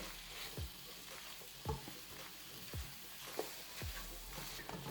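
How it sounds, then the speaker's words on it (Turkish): Steady soft sizzling of mushrooms sautéing in butter in a pan, with a few faint scraping stirs, no voices. "Ve şimdi bu şekilde bırakıp sotelenmesini bekliyoruz"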